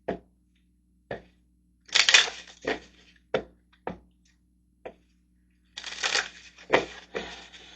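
Tarot cards are shuffled by hand in short separate bursts of riffling and slapping, some brief and sharp, others longer flurries, close and clear in a quiet room.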